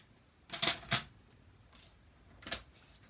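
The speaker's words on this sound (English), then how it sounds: "So I just need to cut this, I need to trim this down to 5 1/4." Card paper is trimmed to size with a few sharp, close cutting snaps: two in quick succession, then a single one after a short quiet gap.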